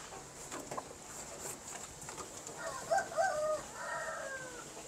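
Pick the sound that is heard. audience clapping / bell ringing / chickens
chickens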